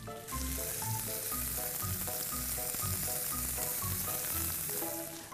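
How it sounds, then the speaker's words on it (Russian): Chicken rolls on skewers frying in a preheated pan, a steady close sizzle running throughout with a rhythmic pulsing music bed underneath and no talking. "рулетики выкладываем на заранее разогретую сковородку и просто их поджариваем"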